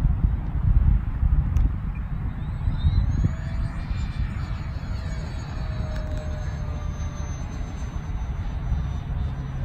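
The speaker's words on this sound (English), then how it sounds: "Nice low flyby." An Eleven Hobby F8F Bearcat 1100mm 4S RC model plane makes a low flyby, its electric motor whine rising and falling in pitch as it passes over a steady rumble of wind and outdoor noise.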